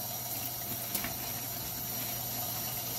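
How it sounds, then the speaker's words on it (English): Hot water runs from a kitchen tap into a sink, a steady, close, continuous hiss and splash with no break and no voices. "get some hot water going."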